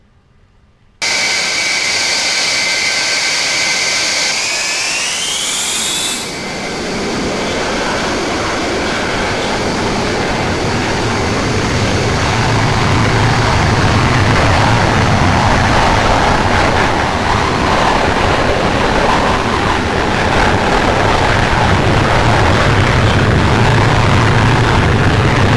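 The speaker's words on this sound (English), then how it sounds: "the engine sounds are fantastic, so I'm going to hold the brake and push the power" In a flight simulator game, a JA37 Viggen fighter's jet engine whines up to a high pitch at full power with brakes held, then gives way to a deep, steady roar that builds and holds loud and continuous.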